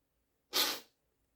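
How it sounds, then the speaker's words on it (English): A single sharp, breathy sneeze bursts out and fades quickly in an otherwise quiet room. "I need to sneeze."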